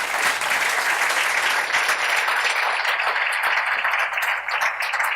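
Listeners at a closing speech for a foundation workshop event applaud the participants, a full, even round of clapping from a large audience that holds steady throughout.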